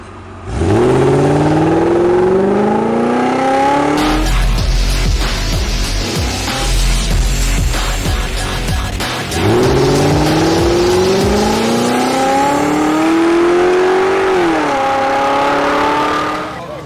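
Race cars at Rockford Speedway roaring past under hard acceleration, rising engine wails sweeping up in pitch in two bursts separated by a stretch of loud, rough crowd and track noise.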